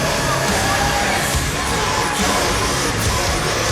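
Dense, steady roar of a wrestling crowd at a Chaos Club dog collar match, loud sustained cheering and shouting with applause mixed in, unbroken throughout.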